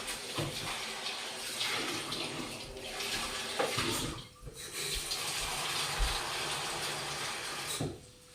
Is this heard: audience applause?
no